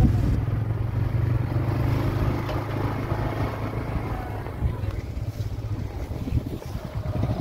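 Motorcycle starting and riding off along a jungle road at night, a steady low engine drone that stays loud and continuous throughout.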